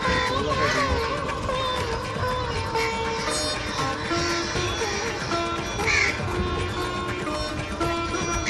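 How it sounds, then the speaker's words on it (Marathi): Birds call around a wooden elevated trail through the Malabar Hill forest in Mumbai, a mix of caws and chirps scattered over a steady outdoor background, some calls near and sharp, others farther off, continuing throughout. "आजूबाजूला पक्ष्यांचे आवाज येत आहेत।"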